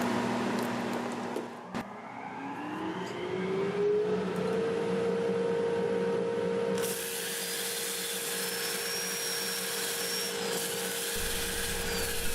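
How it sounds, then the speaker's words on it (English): A workshop dust collector and overhead air filtration unit start up: a steady mechanical whine and motor hum drone continuously, pitch rising as the machine spins up, joined later by a louder broadband roar of airflow. The dust collector has weak suction. "So I've got my dust collector ready to go and my overhead filtration unit."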